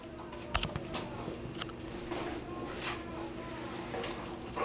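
A dog whimpers and lets out short yips amid a busy, noisy indoor setting with scattered clatter and background voices.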